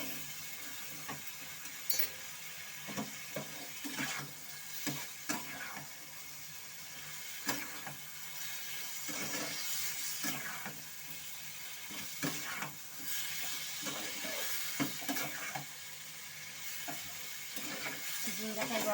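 Fried ridge gourd and potato pieces stirred into a simmering spiced prawn curry in a pan, giving a steady soft sizzle with repeated scraping stir strokes; no one speaks.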